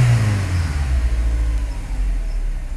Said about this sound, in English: we're gonna go ahead and rev it up